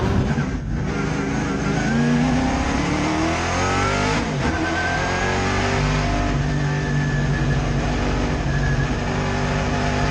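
Vintage race cars of the SVRA Group 10 field accelerate at the start of a race at Circuit of the Americas, a dense, loud roar of several engines revving and climbing in pitch continuously throughout.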